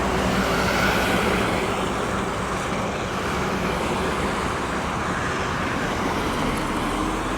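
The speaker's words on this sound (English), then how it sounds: "All kinds of traffic making noise and stuff." Busy street traffic along Dartmouth's main street makes a constant, loud roadway roar and rumble of passing cars, steady throughout with no talking.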